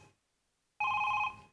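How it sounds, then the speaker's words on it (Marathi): A telephone rings on a comedy show stage. After near silence, one loud, sharp electronic ring burst starts abruptly and lasts about half a second before cutting off. "किडनॅपरचा फोन आहे."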